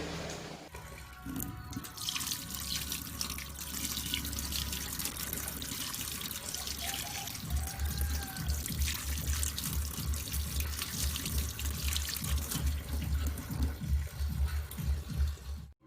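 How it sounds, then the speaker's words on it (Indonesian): Water runs steadily from a tap in a chemistry laboratory, a continuous trickling splash with a low pulsing rumble beneath it in the later part. "Seingatku, kita harus mencuci dengan air mengalir."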